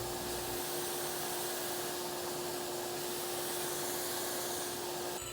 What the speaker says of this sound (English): I'm careful not to feed it too fast into the saw since this is a bit springy.